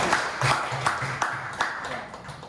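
Audience applause at a women's innovation seminar in Pekanbaru, a brief burst of clapping with a few distinct claps over a low hum and faint background voices.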